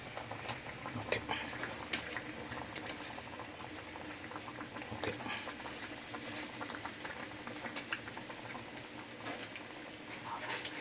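Fish goes into a simmering Kerala village fish curry, and the pot bubbles and sizzles steadily with small irregular pops, close and moderately quiet.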